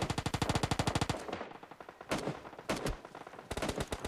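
Rapid automatic gunfire in PUBG on the Erangal map, a fast even string of shots followed by a few scattered single reports and then another quick burst, moderately loud with no talk.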